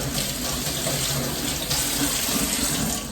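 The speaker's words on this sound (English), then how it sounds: "I'm just going to give it a rinse" Tap water runs steadily over an aloe leaf being rinsed at a kitchen sink, a constant close splashing hiss with no break and no talk.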